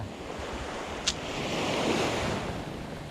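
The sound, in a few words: strong waves and wind on the seashore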